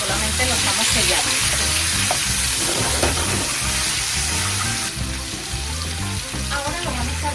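Meat searing in a pan for paella valenciana, giving a loud, steady, close sizzle with a crackling hiss and low bubbling underneath throughout.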